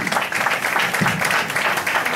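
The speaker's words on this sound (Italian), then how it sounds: "Applausi anche allo scenografo Simone Salamita." Theatre audience after a comedy performance giving sustained applause, a steady, full roar of many hands clapping at close range that stays even from start to finish, with no voices.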